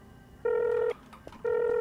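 Two sustained telephone dialing tones sound in Garry's Mod, each lasting about half a second and separated by a brief pause with a faint click between them.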